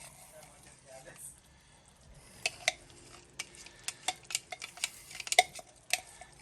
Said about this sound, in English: And you're just gonna mix it all up in there, girl.